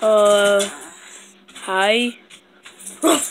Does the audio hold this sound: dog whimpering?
yes